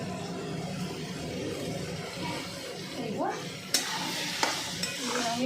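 Shrimp and taro leaves stirred in a frying pan, a soft steady sizzle with scraping and clinking of the spatula against the pan toward the end, one sharp knock standing out.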